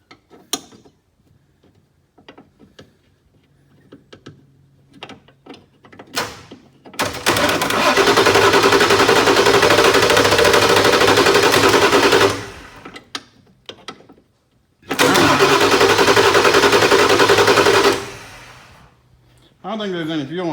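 A 1996 Ford F350 diesel engine, unused for years, cranks in two long close bursts of loud, rhythmic turning, separated by quiet stretches with faint clicks and occasional talk.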